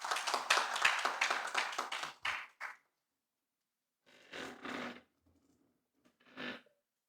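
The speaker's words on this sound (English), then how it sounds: "another round of applause for Chilanga Cement" Conference audience at a cement sponsor reveal and cheque handover applauding, a loud burst of clapping that fades out, followed by a couple of short, fainter spatters of claps.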